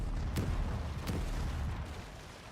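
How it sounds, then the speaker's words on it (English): Light cannons on a pirate ship in a video game fire in two sharp booms about three-quarters of a second apart, each a loud crack over a low rumbling bed of ship ambience, with no talking. "And you can fire each cannon individually,"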